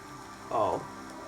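Rain falls in a scene from the TV series Money Heist, a soft, even hiss with a brief voice rising over it.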